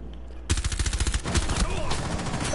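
Rapid bursts of gunfire in the game Dead by Daylight, a loud, fast run of shots that breaks in suddenly after a quiet start and rattles on continuously to the end.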